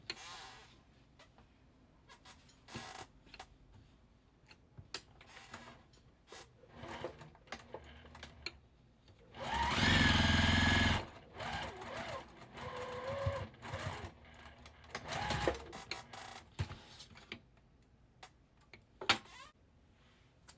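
A sewing machine stitches pieced quilt block fabric for a card trick block, running in one loud burst of about a second amid quieter ticking and handling clicks.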